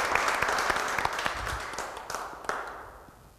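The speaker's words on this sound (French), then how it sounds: "Des applaudissements," Applause from the audience at the final of a televised entrepreneurship contest, with dense clapping and occasional sharper claps that taper off gradually toward the end.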